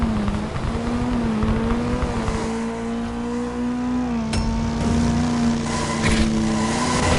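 A superbike engine in a racing video game drones at high, steady pitch under nitro boost, the tone rising and dipping slightly with a couple of sharp clicks or impacts near the end.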